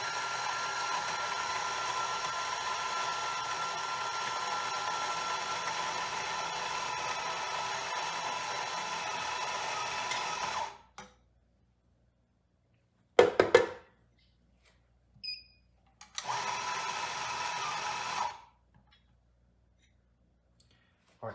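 A coffee grinder grinds Mayorga Cafe Cubano organic espresso beans in a steady close whirring drone for about ten seconds, then cuts off; after a sharp click and a brief pause, a second shorter burst of grinding follows.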